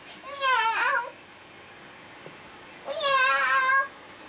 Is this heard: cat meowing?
yes